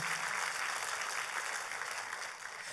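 Steady broadband clapping from a church congregation during a sermon, sustained and fairly loud throughout with no voices standing out.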